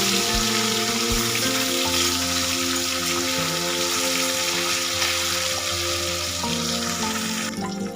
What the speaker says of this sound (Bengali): এবার মাছগুলোকে আমি উল্টে দেবো আর এক পিঠটা ভাজা ভালো করে ভাজা হওয়ার জন্য